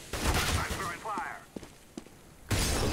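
Gunfire in a professional Counter-Strike match on the de_cache map, heard as sharp bursts at the start and end of the clip around quieter clicks and thuds.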